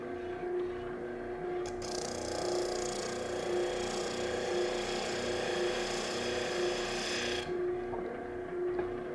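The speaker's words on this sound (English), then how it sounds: "For this final tight curve, you're going to have to use a drum sander to get in there." A drum sander shapes a tight inside curve in a hand-carved wooden table part in a workshop, giving a steady close abrasive whir with a constant motor tone that runs unbroken for most of the span before cutting off near the end.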